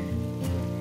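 Oil poured onto hot charcoal in a small steel bowl crackles and sizzles in a short, close burst over a low steady hum.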